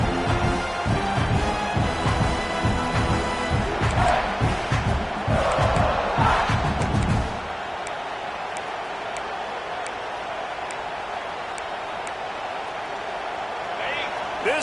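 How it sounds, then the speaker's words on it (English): A football stadium crowd roars and cheers loudly for about seven seconds, then drops to a lower, steady background murmur. "This crowd bringing the energy and noise early."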